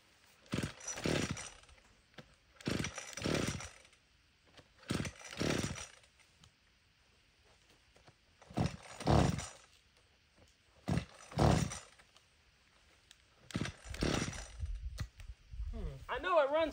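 A gas weed whacker fueled with plastic-derived gasoline gives six short, loud sputtering bursts separated by pauses, then a rising whine near the end, close to the listener.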